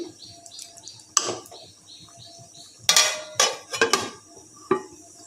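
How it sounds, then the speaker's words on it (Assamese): Metal clatter of a lid set onto a cooking pot of taro, one sharp clank followed by a cluster of knocks and rattles, fairly close, with faint chirping birds in the background. "অকণমান সময় সিজিবৰ বাবে ঢাকন মাৰি দিম।"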